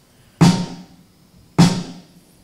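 Two sharp sequenced snare drum hits played alone, evenly spaced with a decaying ring after each crack.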